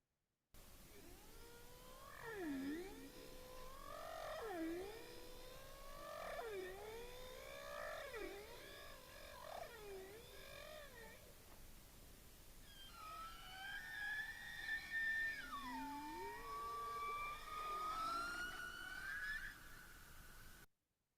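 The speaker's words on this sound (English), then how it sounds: "the social vocalization that I've been studying is song. This is a hierarchically structured vocalization thought to be produced by males in a mating context." Recorded humpback whale song plays as a series of long, sweeping, moaning and whooping calls that rise and fall in repeated phrases, steady and moderately loud against a faint hiss.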